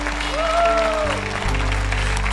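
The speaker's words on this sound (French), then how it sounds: "Déposez le téléphone une seconde et applaudissez à l'avance ce que Dieu va faire" A church congregation applauds as a steady, continuous wash of clapping. A sung or held voice rises over it early on, and a low tone sits underneath.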